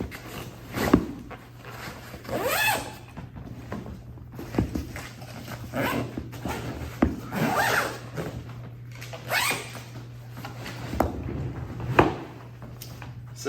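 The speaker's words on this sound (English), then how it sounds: "then we can zip this all back up" An inflatable skiff-kayak's storage bag being zipped closed, with several quick rasping zipper pulls repeating close up, along with rustling and handling of the packed bag and no talking.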